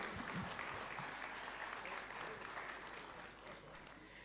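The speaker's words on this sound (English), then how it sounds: "A round of applause as they pick these awards kindly" Steady applause fills a hall as winners collect awards at a Taxpayers' Day ceremony at State House, Nairobi, a dense clapping crowd holding level and easing slightly toward the end.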